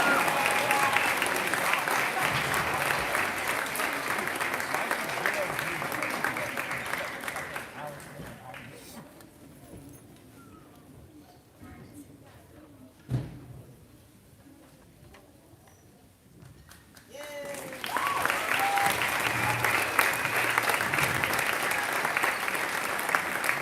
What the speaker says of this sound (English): One last big round of applause for our 4 Lady Dragon seniors